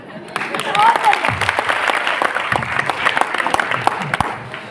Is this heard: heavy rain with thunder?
no